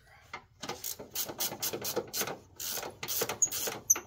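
A 1/2-inch wrench tightening a bolt on a Cub Cadet bagger, giving a quick run of close metallic clicks and scrapes in an uneven rhythm across a few seconds.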